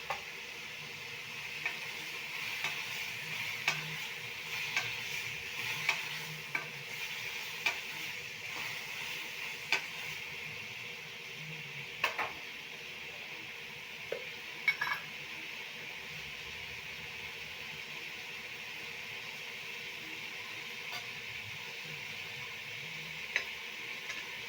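Vegetables fry quietly in a pan with a soft, steady background sizzle, broken by scattered faint ticks and taps from occasional stirring over a long, even stretch.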